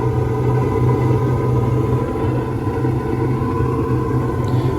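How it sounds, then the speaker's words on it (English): A lit gas furnace burner fires with a steady, low rumbling roar and a constant hum, loud and close, unchanging throughout, with no voices. "It'll open the gas valve and the spark will light the gas."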